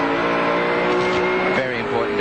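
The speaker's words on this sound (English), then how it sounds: "Now you can see him accelerating as he gets into the wind blockage that John's providing for him." A 1995 V8 Supercar race car accelerates hard up the steep hill at Bathurst during a race, its engine roaring loud and close with a rising, continuous note while a commentator talks over it.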